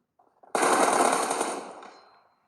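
An M4 assault rifle fires in a first-person shooter video game: one loud, sharp burst of rapid automatic shots that fades out over about two seconds.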